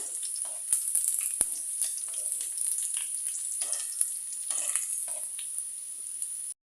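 About a quarter cup of chopped onions frying in a pan with oil, a bright, steady sizzle with occasional stirring scrapes, close and continuous until it cuts off abruptly.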